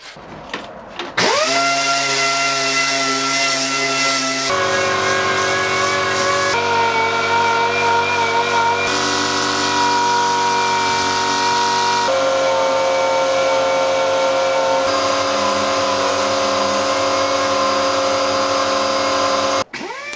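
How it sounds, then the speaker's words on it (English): Air sander working over a whisky barrel, a loud, continuous high-pitched whine with a strong buzzing tone that shifts pitch in several steps as pressure changes, running alone for about twenty seconds before stopping. "And then I sanded it down for what seemed like a lifetime."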